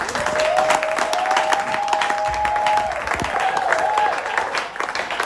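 A church congregation claps steadily and warmly throughout, with scattered voices and a sustained sung or shouted tone rising above the applause.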